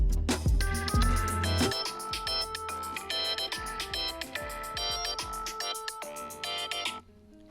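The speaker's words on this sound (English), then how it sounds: "Set this timer on my phone for 2 minutes." A loud, melodic phone ringtone plays a repeating electronic tune for several seconds, then cuts off.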